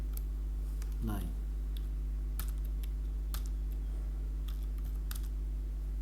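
Scattered keystrokes on a computer keyboard, a handful of sparse clicks spread over a few seconds, faint over a steady electrical hum.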